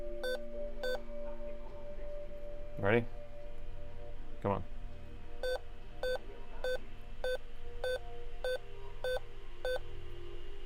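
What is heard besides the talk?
Alienware motherboard beep code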